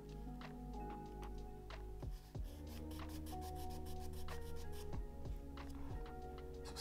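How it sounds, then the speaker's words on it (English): Rhythmic rubbing and scratching strokes, close and fairly quiet, as a small hard 3D printed flexible resin part (Monocure3D Flex 100) is sanded by hand over a low hum. "Let's try sanding a little bit."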